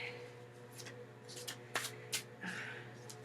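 A deck of reading cards being shuffled nearby, with a few sharp riffling bursts and soft rustling over a low steady hum.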